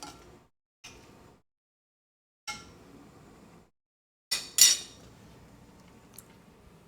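Pizza sauce being stirred in a pot: a few separate scraping strokes and clinks of a utensil against the pot, close and fairly quiet, with silent gaps between them.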